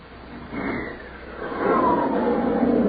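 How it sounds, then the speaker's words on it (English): An F-89 Scorpion jet aircraft roars past, swelling from a distant rush to a louder, steady whoosh as it draws near, heard alone without voices. "That's the sound of one of America's newest defenders of the American way, an F-89 Scorpion jet"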